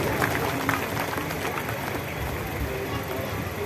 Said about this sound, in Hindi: जोरदार तालियां हमारे अतिथियों के लिए